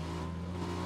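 A steady, droning car engine in the video game PUBG hums at constant pitch, moderately loud, with no talk over it.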